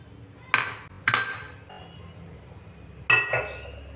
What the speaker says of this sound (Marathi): आता हे सर्व साहित्य आपल्याला कुकरच्या भांड्यात टाकून घ्यायचं आहे।